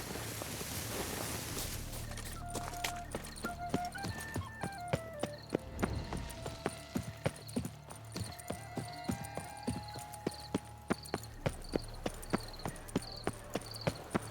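A horse walks and trots in The Witcher 3 video game, its hooves clip-clopping in a steady, sharp rhythm over light background music and ambience.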